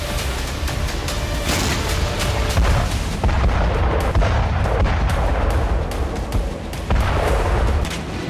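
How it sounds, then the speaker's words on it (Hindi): Dense, continuous loud booming and rumbling gunfire from a Russian self-propelled gun shelling a Ukrainian post near Bakhmut, with repeated heavy blasts layered over a constant roar. "बाखमुत में रूसी सैनिकों ने सेल्फ प्रोपेल्ड गन G8-S से यूक्रेनी पोस्ट को उड़ा दी"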